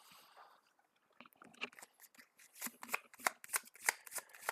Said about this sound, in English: This is the most exciting part of a live stream, is listening to someone shuffle, right?